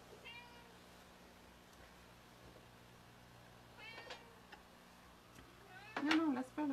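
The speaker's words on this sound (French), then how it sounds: "C'est le chat qui vient pas normalement dans l'atelier." Inside a workshop a cat gives a few soft meows, then a final louder, closer one, with a faint steady hum beneath.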